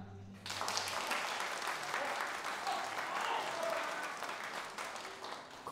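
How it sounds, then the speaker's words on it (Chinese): A crowd breaks into loud, sustained applause after a brief quiet opening to welcome the young master, and the clapping continues steadily to the end. "让我们大家以最热烈的掌声欢迎龙喜丹大少爷"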